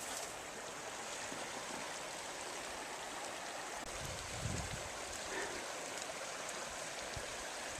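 A rescue dog plays in a river stream in an area hit by the East Troublesome Fire. Steady rushing water fills the whole stretch, with a brief, low, splashy swell near the middle.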